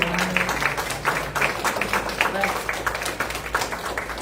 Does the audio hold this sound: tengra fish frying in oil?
no